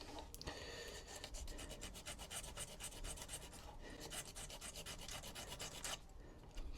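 A section of fishing rod is being rubbed down during a repair, making a rapid, rhythmic rasping scrape of repeated strokes, close and fairly quiet. Nobody speaks.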